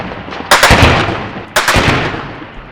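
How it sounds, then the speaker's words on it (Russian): Artillery shells exploding about fifteen metres from a Syrian Arab Army position in Syria: two loud, sharp blasts roughly a second apart, each decaying into a rumbling tail, close and alone. "Вот и сейчас эти взрывы в 15 метрах от позиции сирийско-арабской армии."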